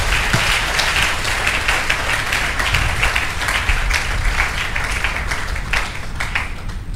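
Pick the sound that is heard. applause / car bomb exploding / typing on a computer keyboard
applause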